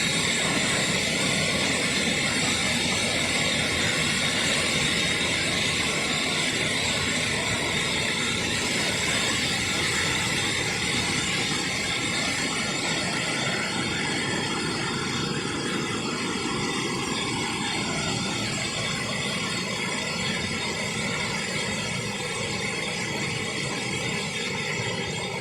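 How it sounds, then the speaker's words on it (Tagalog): Strong water current rushing on a farm: a loud, dense, unbroken roar of flowing water across the whole stretch, steady and close with no pauses or talk. "Lakas ang agos."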